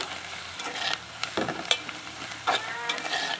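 A spoon stirs curry with salt and juice in a hot pan, producing a soft continuous sizzle broken by a few distinct scraping strokes, close and unaccompanied by talk.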